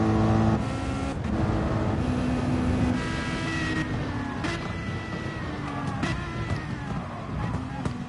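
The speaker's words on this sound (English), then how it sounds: "Sounds more like it's got a rotary engine," Race car engines drone and whine at high revs at Le Mans, with one passing by and fading under a continuous, buzzing mechanical roar.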